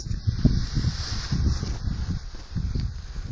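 Wind buffets and rumbles across the microphone in uneven gusts, a rough low roar with rustling on top.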